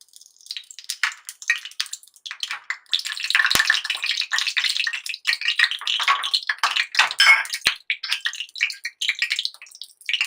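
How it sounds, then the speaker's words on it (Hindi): Mustard seeds popping in hot oil: rapid, irregular crackles and spits of varying loudness for about ten seconds, with two sharp clicks and no voices. "सबसे पहले इसके अंदर हम 1 चम्मच राई डालेंगे।"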